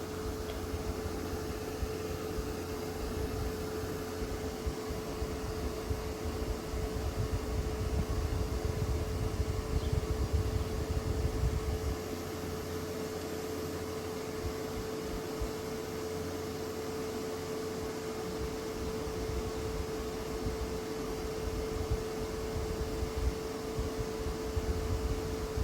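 A heat gun runs continuously while heating sealing wax, a steady whirring drone with a constant motor tone, fairly faint and unchanging, with no talk.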